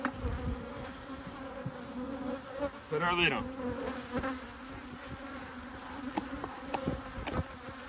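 Honey bees buzz continuously around an opened hive being split with a queen excluder, a dense close drone with sharp clicks and knocks of hive equipment, and a person speaks briefly midway.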